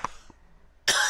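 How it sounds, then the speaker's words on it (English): A person coughs, close and sharp, with a short burst followed by a louder rough cough after a brief quiet pause. "And then I'm going to cough."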